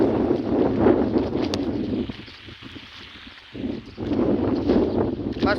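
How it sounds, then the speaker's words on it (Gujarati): Outdoor wind gusts buffet the microphone in a rough, rumbling roar that eases briefly midway before blowing hard again. "મસ્ત મજાની હવા થઈ ગઈ"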